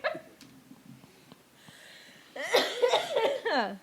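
People cough during a podcast recording, with a few faint early hacks and then a louder burst of harsh coughing mixed with laughter near the microphone.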